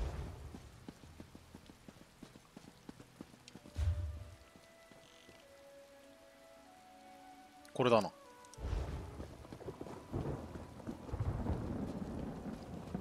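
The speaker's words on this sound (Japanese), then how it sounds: "また雨降ってきちゃったね。" Rain falls steadily in The Elder Scrolls Online, with rumbles of thunder rolling in at intervals over game music, while a person briefly talks.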